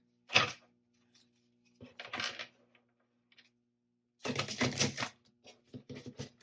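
A tarot deck being shuffled by hand, giving a few separate bursts of riffling card noise with quiet gaps between them, a longer loud burst near the end, and no talking.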